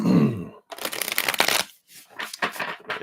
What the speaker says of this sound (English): Let me shuffle these up.